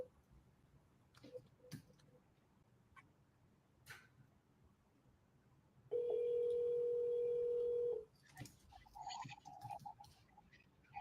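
A phone call being placed: a steady dial or ringback tone holds for about two seconds in the middle, with faint clicks and murmurs before it and a muffled voice after it.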